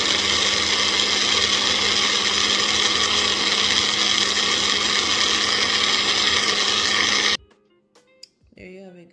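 A blender whirs steadily as it mixes ginger teriyaki ingredients with a quarter cup of water, a loud continuous motor drone that cuts off abruptly near the end, followed by brief quiet clatter.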